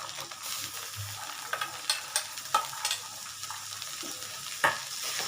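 Chana dal and grated coconut fry in a pan with a low steady sizzle, punctuated by scattered clicks and scrapes of stirring, close and moderately quiet without speech.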